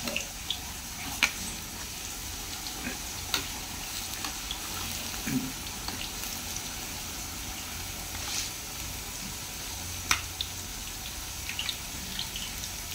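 Banana fritters (maruya) frying in a hot pan, a steady soft crackling sizzle with scattered small pops and ticks, continuous and fairly quiet throughout with no talk.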